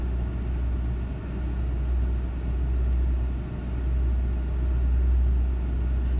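A Ford Ranger truck engine at high idle under HVAC load: a steady, close low rumble with a constant hum and slight swells in level, no voices.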